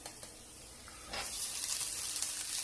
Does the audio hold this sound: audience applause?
no